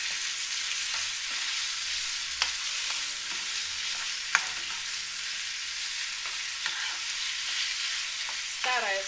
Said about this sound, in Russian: Старая сковородка, поэтому уже мешаю ложкой, не боюсь.